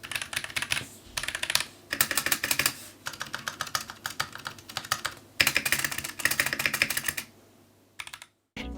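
Rapid typing on a mechanical keyboard fitted with Drop Holy Panda tactile switches, dense bursts of crisp clacky keystrokes in irregular rhythm with short pauses between runs, close and alone.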